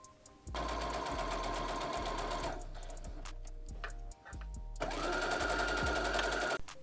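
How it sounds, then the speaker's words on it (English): A sewing machine runs steady stitching on Christmas pajamas, a loud close whirring hum in two long runs split by a short pause, with no one talking. "And then I just sewed along for all"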